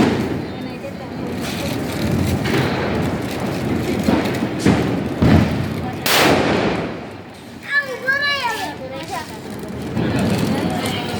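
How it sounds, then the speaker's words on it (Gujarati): Diwali firecrackers bursting outdoors, heard as a string of dull thuds and one sharp crack, some distant and some closer, mixed with talk and a brief chirping. "અવાજ એવા આવે છે ફટાકડાના"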